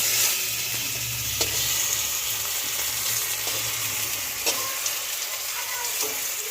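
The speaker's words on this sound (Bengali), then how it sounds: "আলু ভাজা করছি" Potatoes fry in a pan with a steady, loud sizzle throughout, broken by occasional stirring scrapes and clicks, with a low hum underneath and no talking.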